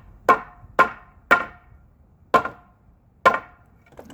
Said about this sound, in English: Bang the board with a hammer.